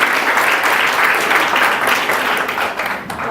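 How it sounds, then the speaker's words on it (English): Loud, dense applause from an audience at a homoeopathic medical college session, continuous clapping with a crowd roar that holds steady and dips slightly at the end. "give her a cheer"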